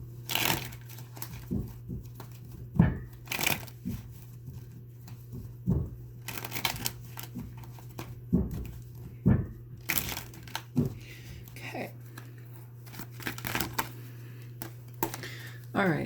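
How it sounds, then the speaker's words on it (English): Close, intermittent riffling and crinkly papery bursts of a tarot card deck being shuffled, over a steady low hum with occasional faint sounds in between. "Let me just give this a shuffle really quick."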